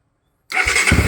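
Honda NS200 240cc motorcycle engine catching after silence, bursting into a loud close rev with a low rumbling idle beneath.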